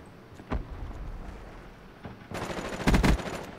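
Automatic gunfire from a Black Ops 3 free-for-all match, with a couple of isolated shots followed by a loud, rapid burst near the end, set against faint game background noise and no talking.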